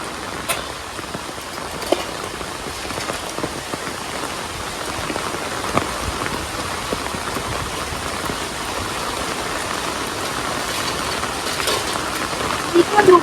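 Heavy rain pours down in a storm, a dense continuous hiss with scattered louder drops and wind gusting under it, with a person's voice faintly heard through the downpour.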